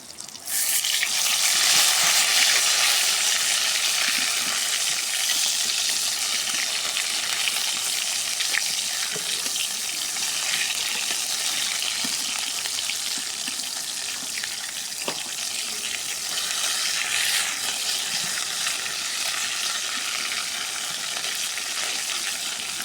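Eggplant slices fry in a pan with a loud, even, bright hiss that holds steady for the whole stretch, a few faint pops and scrapes inside it and no talking.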